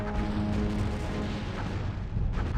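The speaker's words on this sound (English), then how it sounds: "Those explosions completely disintegrated the ships." Heavy booming explosions as ships are destroyed in Star Trek: Bridge Commander, a dense, loud rumbling roar with a sudden fresh blast near the end, no speech.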